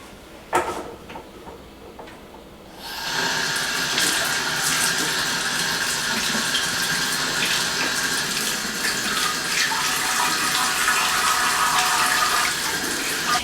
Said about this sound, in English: I have this bowl here because I'm going to fill it with water and some lemon juice